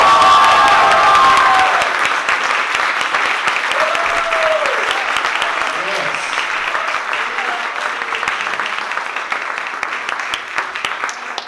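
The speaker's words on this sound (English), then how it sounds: "How about a round of applause for Miss Lexi Cullen Baker?" A comedy club audience at a stand-up show breaks into loud, sustained applause with some cheering, strongest at the start and easing slightly over about ten seconds while staying dense and close.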